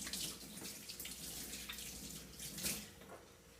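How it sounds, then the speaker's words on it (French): Hands rinsed under a running kitchen tap during gravlax salmon preparation, a steady close splashing stream of water with no talking. "Et je vais encore rincer les mains."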